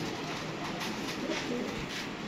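Pigeons, kept for putting into cages, coo softly in a low, rolling murmur, partly buried under a steady hiss of background noise with no talking.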